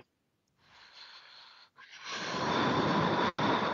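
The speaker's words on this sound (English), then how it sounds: "Why you are blowing your nose?" A person blows their nose or snorts hard in a long, rough, breathy burst that builds and holds, broken by a brief gap, close up with no talking.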